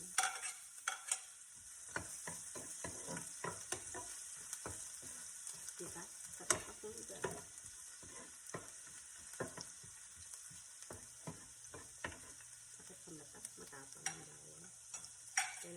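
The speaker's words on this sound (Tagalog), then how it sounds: "Gigisa na po tayo. Bawang muna." Garlic sautés in a pan with a faint, crackling sizzle and scattered clicks and spatters, quiet and close, with no talk over it.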